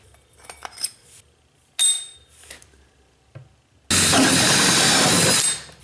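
Hole saw bit sized for 1.25-inch PVC cutting through a plastic 5-gallon bucket: a few clicks and short bursts, then a loud steady whirring cut of about two seconds before it stops.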